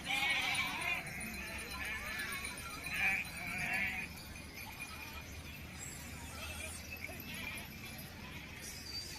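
Sheep bleat now and then as they are led around a temple at a crowded village festival, with voices and bustle running underneath.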